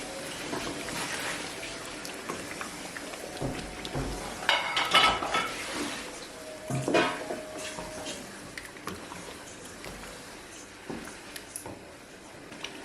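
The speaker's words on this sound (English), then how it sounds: "And then you mix everything." A spoon stirs a Nigerian carrot stew made without tomatoes and with meat stock in a pot, giving soft scraping and wet sloshing with a few metallic clinks, clustered mid-clip and fading to quiet.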